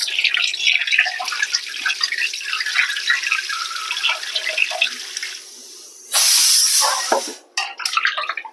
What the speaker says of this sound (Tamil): தண்ணியில் வச்சு வாஷ் பண்ணிக்கலாம்.